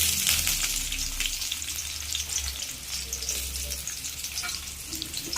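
Chopped onions and dried red chillies sauté in hot oil, giving a loud, dense, continuous sizzle with a shifting crackle as they are stirred in the pan.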